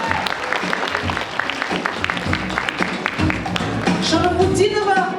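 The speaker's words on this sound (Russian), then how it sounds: "Аплодисменты." Hall audience at a student spring concert applauding a vocalist, a thick, steady patter of many hands with some cheers and whistles rising toward the end, loud and close.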